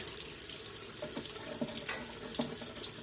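Running tap water streams into a sink over dry beans being washed in a colander, a steady close splashing wash with small clatters and knocks as the beans move, no talking.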